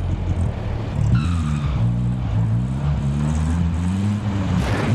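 A vehicle driven in Call of Duty: Modern Warfare, its engine droning steadily with rising and falling pitch as it moves, loud and continuous throughout.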